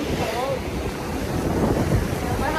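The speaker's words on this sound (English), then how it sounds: "very windy, cloudy and a little bit rainy, but we still had to come to the beach" Gusty wind and surf on a cloudy, windy, lightly rainy Maui beach, a steady roar of breaking waves mixed with wind buffeting the microphone, continuous and fairly loud throughout.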